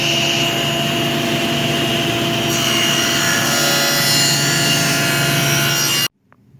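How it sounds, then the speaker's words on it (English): Power saw ripping lengthwise along a wooden board being trimmed, a loud steady whining cut for about six seconds that brightens midway and then stops abruptly, leaving near silence. "Now I'll trim this board."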